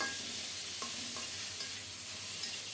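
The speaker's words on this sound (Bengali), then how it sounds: "টমেটো দিয়েও আরও কিছুক্ষণ নেড়ে চেড়ে নিলাম" Steady frying hiss as tomato and onion cook, with a few soft scraping strokes of a spoon stirring in a pan, close and continuous, no voices.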